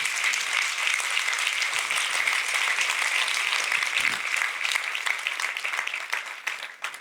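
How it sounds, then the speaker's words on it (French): A large audience at a human rights film festival debate applauds steadily, dense sustained clapping at even loudness throughout, thinning slightly toward the end. "Applaudissez-la."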